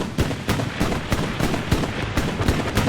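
Gunfire in the World War II shooter Hell Let Loose: about eight sharp, evenly spaced shots crack over roughly three seconds against a constant rumbling battlefield background.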